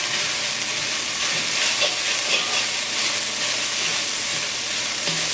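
Okra sizzles continuously while it is stir-fried with coconut in a pan, a dense, close hiss with faint scraping and stirring underneath.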